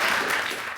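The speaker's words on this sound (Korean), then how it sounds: "IOC 선수위원 선거 결과가 발표되자 박수가 쏟아지고 축하 악수가 이어집니다" Applause from a crowd as results of the IOC athletes' commission election are announced, a dense, steady patter of clapping that holds throughout a brief burst and tapers slightly at the end.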